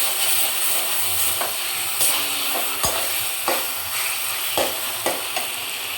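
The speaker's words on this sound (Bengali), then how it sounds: "ডিম দিয়ে একটু কষিয়ে নেব।" Duck eggs sautéed in spice masala, a continuous close frying sizzle broken by regular spoon strokes and scrapes against the pan roughly every second, with no voices.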